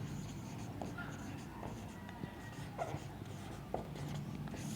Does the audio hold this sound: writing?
yes